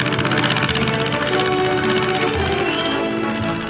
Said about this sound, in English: the sound of an airplane can be heard. A single motor ship flying low.